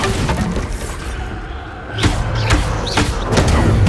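Bombarda spell blasts in Hogwarts Legacy, a series of sharp thuds and bursts at a steady pace over rumbling game combat noise, with a short quieter gap near the middle.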